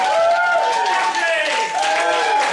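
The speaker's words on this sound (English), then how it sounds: "Round of applause for all the guests we've had this evening." Audience claps for the evening's guests at a small live comedy show, a brisk patter of applause running underneath a man's loud, sustained voice.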